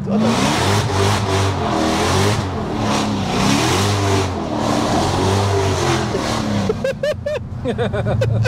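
An 800bhp Dodge Hellcat's engine revs hard up and down in repeated rising and falling sweeps, loud and close from inside the car, before the sound breaks into a few sharp rapid bursts near the end.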